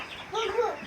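A Fayoumi chicken on a poultry farm clucks in a short, close run of soft, rising calls, with faint background chatter.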